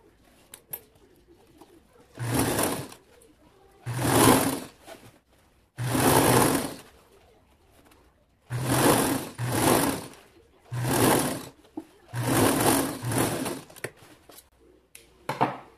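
A sewing machine stitches the side seam of a flared midi skirt in about eight short bursts of fast whirring, close and clear, with quiet pauses between runs and pigeons cooing faintly in the background.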